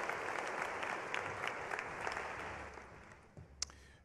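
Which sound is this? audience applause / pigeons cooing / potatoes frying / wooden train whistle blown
audience applause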